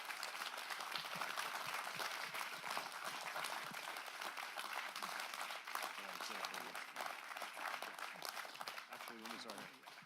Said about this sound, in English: Let's give Daniel a big round of applause.